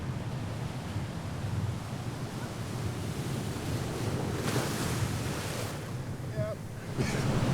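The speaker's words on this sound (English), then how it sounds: "We're at the beach." Caribbean ocean waves wash onto a beach in Puerto Rico, a continuous roar of surf mixed with heavy wind buffeting the microphone, with brief faint voices.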